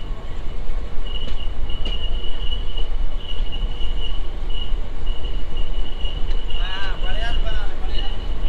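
Vibhuti Express passenger train on the Howrah to Varanasi run, rumbling steadily along the rails with a loud, continuous roar, a thin metallic wheel squeal threading through and a few brief squeaks near the end.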